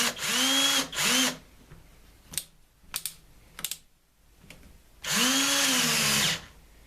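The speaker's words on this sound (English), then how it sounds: "Okay, so we've got the battery in the drill," An AEG battery drill with a rapid-charged battery whirs in two short bursts, then clicks and handling noises, then one longer whining run that winds down and stops.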